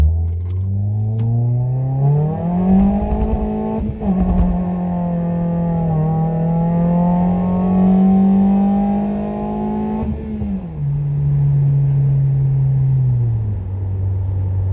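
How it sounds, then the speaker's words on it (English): A Toyota Yaris with a small 91 cubic inch economy engine accelerates hard during a trackcross run, revs climbing through gears with a brief shift, then easing off; loud, close engine drone with no talk. "it just accelerates. It doesn't blow tires off, obviously, but it just amazes me what a little economy 91 cubic inch motor can do"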